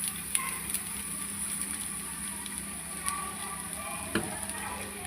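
Ginger paste frying in a pan, a steady soft sizzle held at an even low level for several seconds, with a few faint clicks of stirring and no voices.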